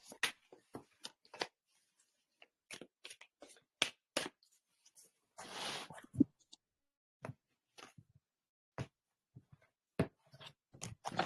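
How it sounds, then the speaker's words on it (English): Tarot cards being shuffled by hand during a reading, heard as sparse, close, dry riffles and flicks with short papery taps spread across quiet pauses and one longer ruffling burst in the middle. "Do a little shuffling here."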